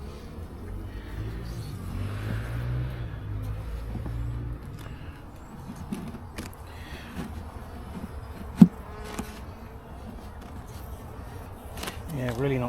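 Honeybees hum in a steady close buzz around an opened hive, individual bees droning past now and then, with people talking over it and a sharp knock partway through.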